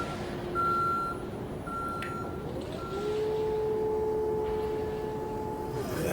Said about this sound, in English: Forklift sound.